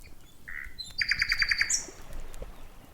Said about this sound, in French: Le chant qui sort de cet objet est tout aussi impressionnant que celui du célèbre rossignol